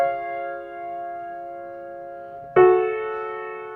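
Solo piano holding sustained notes from Debussy's Clair de Lune, then a new chord struck firmly near the end and left ringing, clear and close with no talking.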